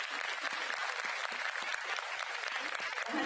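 An audience applauds young child performers at a music and arts program, a dense, continuous burst of clapping from a crowd filling the whole moment at moderate loudness.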